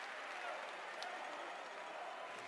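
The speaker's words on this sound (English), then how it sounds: "Applause around the arena." Applause and crowd noise fill a handball arena, a steady distant wash of clapping without distinct peaks.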